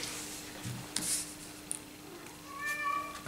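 A cat gives a short, clear meow near the end, preceded by faint rustles and small knocks in an otherwise quiet room.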